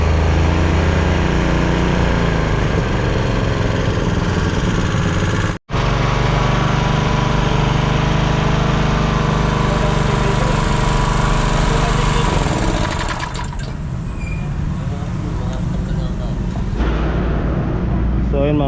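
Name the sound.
GX engine running after being started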